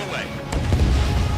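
Missile launch from a fighter jet in Ace Combat 7: a sharp whoosh and rising roar after a brief pause, loud and close over steady engine rumble, with voice chatter.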